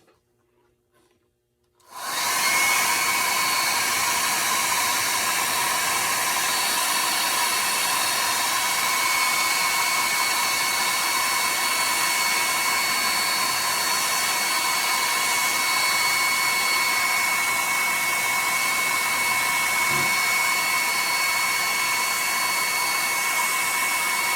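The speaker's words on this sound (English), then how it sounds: "I'm going to dry this one." A hair dryer switches on after a brief quiet start and runs steadily and loudly, with a constant whirring hiss, while drying paint on a carved wooden chickadee.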